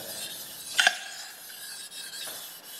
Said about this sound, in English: precision ground flatstone over the sole of this to get rid of any up stickers or burrs